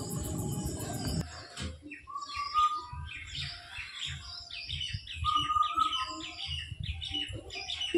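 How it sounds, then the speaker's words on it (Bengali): Indian cuckoo (bou kotha kao bird) calling outdoors amid other birds, repeated clear whistled phrases over chirping and twittering, moderately near and fairly quiet, with no speech. "কেমন লাগলো তোমাদের বউ কথা কাও পাখির ডাক শুনে?"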